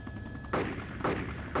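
Cannon fire from an attack aircraft in the Arma 2 military game comes as three evenly spaced, muffled booming bursts over a steady engine drone, fairly faint and distant.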